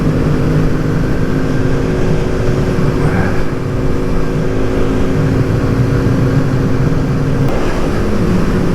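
A 2024 Kawasaki Z125 motorcycle engine hums steadily while riding during break-in, a close, constant buzzing drone with wind noise and little change in pitch throughout.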